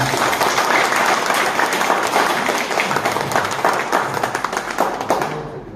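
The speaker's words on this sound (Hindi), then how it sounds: "तो मैं चाहता हूँ कि इस डिसीजन के लिए ताली होना चाहिए" Sustained audience applause at a leadership training program gathering in India, a dense wash of many hands clapping steadily for several seconds before cutting off abruptly at the end.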